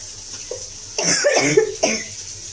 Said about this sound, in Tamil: நடுவில் வந்து நம்ம இருமல் வந்து இவ்வளோ டிஸ்டர்பன்ஸாக இருக்கே